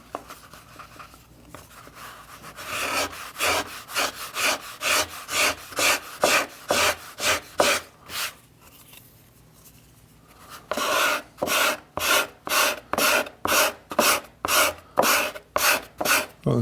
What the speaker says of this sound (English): I'll try this bigger scraper out in here.